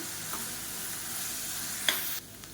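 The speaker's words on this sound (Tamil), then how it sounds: "இப்போ வெங்காயம் வதங்கிட்டு இருக்கையிலே" Onions sautéing in a pan for tomato chutney give a steady, fairly quiet sizzle, with a single sharp clink near the end before it drops off.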